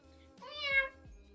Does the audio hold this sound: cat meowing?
yes